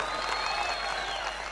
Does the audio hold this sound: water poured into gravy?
no